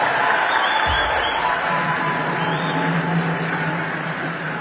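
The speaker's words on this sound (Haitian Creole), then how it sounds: "applaudissez pour les sécuritaires" Audience at a live concert in Boston's Symphony Hall applauding security staff, a sustained wash of clapping and crowd noise with a low thump near the start, fairly loud throughout.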